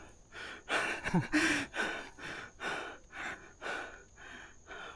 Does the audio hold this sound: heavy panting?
yes